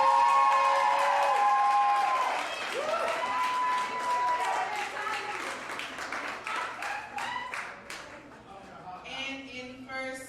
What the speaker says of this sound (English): Please, a round of applause for Gabby.